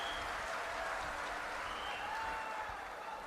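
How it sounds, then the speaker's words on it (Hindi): An audience claps steadily and continuously at a gathering led by a guru, a dense, even wash of applause with a faint crowd murmur and no clear talk. "दादा को ताली बजाओ,"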